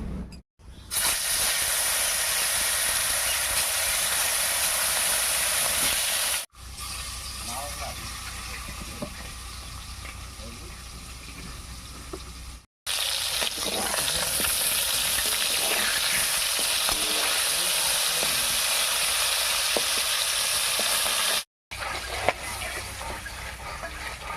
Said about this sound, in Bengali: মাছ মেখে নিয়েছি এদিকে তেলটাও গরম হয়ে গেছে এবারে ভেজে নিচ্ছি